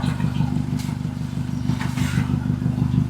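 A blue truck's engine revs loudly and steadily as it drives through mud, a continuous low throbbing growl with clattering that holds throughout.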